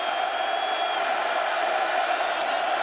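Dense stadium crowd roar at a 2008 Boise State vs Oregon college football game, a steady broad wash of cheering and voices throughout, with no distinct lull.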